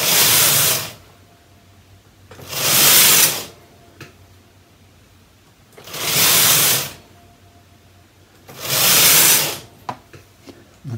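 Brother knitting machine weaving a pattern, its carriage sliding across in four loud, broad hissing sweeps roughly every three seconds, separated by quiet gaps with light clicks.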